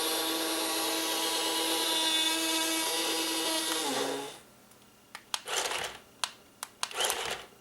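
Small electric motor of a Heng Long 1:26 scale RC Panzer tank whirs as the turret rotates, a steady high whine that stops abruptly, followed by several sharp clicks and brief mechanical bursts.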